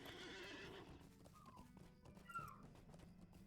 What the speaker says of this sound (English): There's actually another horse there as well, yeah.